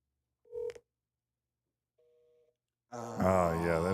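A telephone call being dialed: a short burst of dial tones, a quiet gap, then a brief tone, followed by a loud voice talking near the end.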